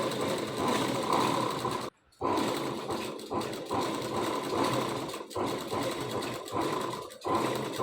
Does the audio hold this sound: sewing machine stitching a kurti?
yes